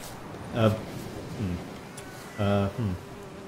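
Short, tonal buzzing bursts from bees in the video game The Witcher 3 rise and fade several times, droning close by, with quieter background noise between them.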